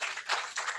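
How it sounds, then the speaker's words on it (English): Brief burst of audience applause for a conference panel, dense and fairly close, with steady clapping swelling and easing over a moment. "please would you give a round of applause for the entire panel"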